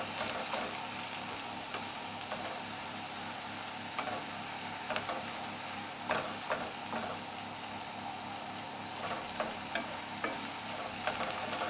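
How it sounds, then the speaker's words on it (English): Minced meat for a lasagne sizzles softly in a pan, a constant low frying hiss punctuated by scattered scrapes and taps of a utensil breaking it up. "mince is getting there. So you know, juices are starting to come out."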